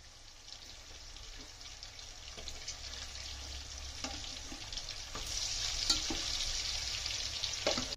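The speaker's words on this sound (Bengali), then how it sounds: "মাছ ভাজা হয়ে গেছে" Fish fries in a pan with a soft, continuous sizzle, broken by a few light clicks of stirring or turning, quiet and close.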